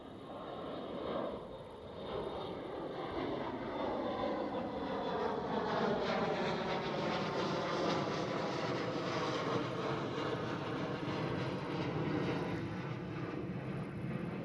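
Jet engines roar steadily as a KLM City Hopper Embraer E175 passes at Schiphol airport, Amsterdam, loud and sustained with a sweeping, shifting drone close by and no voices over it.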